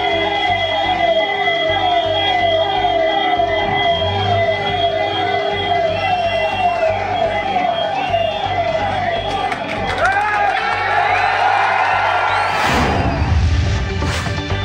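A wailing ambulance siren rises and falls repeatedly over crowd noise and a loudspeaker voice at a political rally, growing louder and more chaotic near the end.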